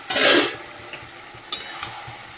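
Masala and eggplant are sautéed in a pan, opening with a short loud sizzling scrape of stirring, then quieter sizzle broken by a few light clicks of the spoon against the pan.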